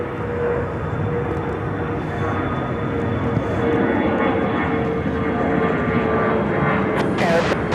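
A United Airlines Boeing 737-900ER taking off from Chicago O'Hare, a steady broad jet roar that holds strong and constant, with a faint voice speaking over it.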